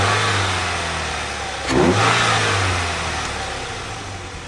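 A Pontiac Solstice engine running after a head gasket replacement, idling close and loud, then briefly revving up before settling back into a steady idle, with no voices.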